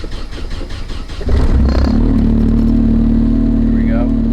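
A Nissan S14's engine cranks and catches abruptly, then settles into a loud, steady idle close by, with a person talking before it starts.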